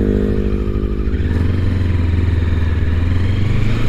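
A Sinnis Terrain T380 adventure motorcycle being ridden on the road, its engine droning steadily close up with a low, even hum as it holds speed, with wind noise and no talking.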